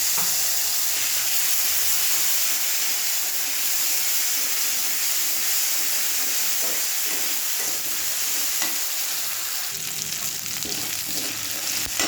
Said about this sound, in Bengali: এই যে আদা রসুনের পেস্ট অল্প করে দিলাম।